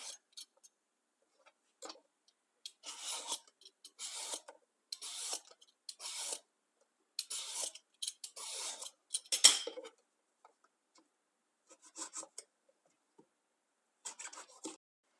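A knife or peeler scrapes strips of skin from eggplants in a run of short raspy strokes, each a quick scratchy rub, separated by brief silent gaps; close and fairly quiet, with no talking.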